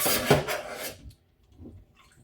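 A short burst of water splashing in a kitchen sink while sea bass is prepared for baking, a bright wet rush lasting under a second before fading to quiet.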